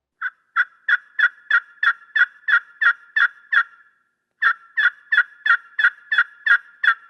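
A slate friction turkey call worked with a waterproof striker gives a close, loud run of about ten sharp yelps in an even rhythm, then a short pause and a second run of about eight more, with no talking.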